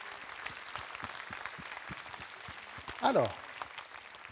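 At a convention panel with actors, the audience applauds in a steady patter of clapping that continues under a voice speaking briefly near the end.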